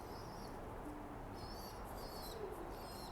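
Young birds calling with immature voices outdoors, faint, thin high-pitched calls scattered over steady background noise, distant and intermittent.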